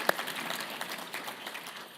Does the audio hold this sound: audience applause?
yes